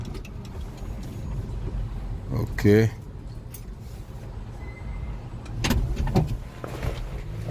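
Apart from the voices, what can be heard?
Chrysler Town & Country right sliding door operating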